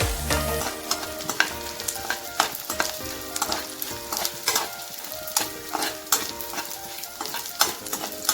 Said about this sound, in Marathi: तूप आपलं गरम झाले त्यात आपण हा डिंक टाकून घेऊ हा अगदी छानपैकी फ्राय करून घ्यायचं आहे